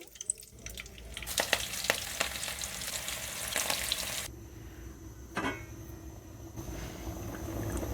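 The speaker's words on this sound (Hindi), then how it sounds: "इसी तरह ये हम सारे फ्राई कर लेंगे" Daal kababs deep-fry in hot oil with a bubbling sizzle and occasional stirring clatter, loud at first and then settling to a quieter, steady fizz; no one talks.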